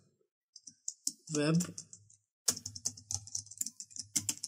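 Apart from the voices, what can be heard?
typing a group name on a computer keyboard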